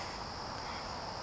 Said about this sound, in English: you can see the bees flying